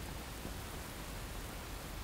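Steady rain falls evenly and continuously, a close, uniform hiss with a soft low rumble and no voices.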